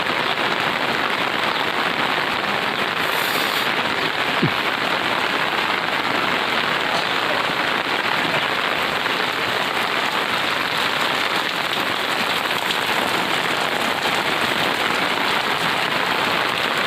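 Heavy rain pours steadily on surfaces in Mendhapadar village, a dense unbroken roar of drops close by, with no voices.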